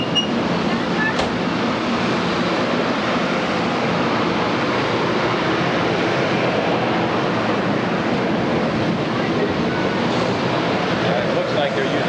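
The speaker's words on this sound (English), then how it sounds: "By the way, this is the southbound train." Amtrak southbound passenger train bound for Miami in 1998, heard as a steady, loud broadband rumble and rushing roar that holds evenly throughout, with no pauses or distinct horn blasts.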